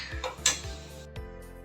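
A spoon clinks and scrapes against a metal pan while a thick lemon pickle mixture is stirred: a few close, sharp metallic taps and scrapes over a low background hum.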